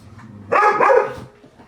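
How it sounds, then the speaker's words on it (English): A dog in a quiet room lets out one short burst of barking and yipping, close and moderately loud, then falls quiet again. "Sorry about my dog."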